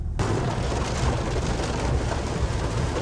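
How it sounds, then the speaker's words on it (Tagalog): Heavy rain pours down steadily while driving on a road, a dense, loud wash of drumming hiss that starts abruptly and continues without a break. "ang lakas ng ulan"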